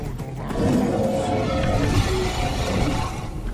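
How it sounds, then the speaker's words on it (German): A deep, rumbling dragon roar in The Elder Scrolls V: Skyrim swells and holds for several seconds, loud and close, over a dense game soundtrack. "ich höre einen Drachen."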